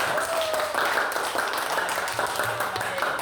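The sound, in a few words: applause for group D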